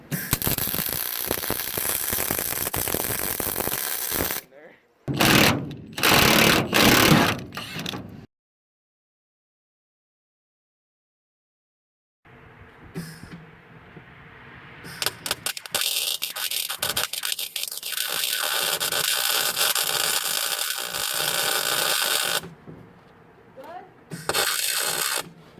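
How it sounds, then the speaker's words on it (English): Welding on a Chevy square body truck, loud crackling and hissing arc bursts in several stretches separated by a long silent gap, harsh and close, with a brief pause near the end. "Okay, back to welding."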